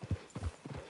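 Horse hooves clop in a quick, uneven rhythm at a steady distance in the video game Red Dead Redemption Online, with a few soft thuds over a faint background hum.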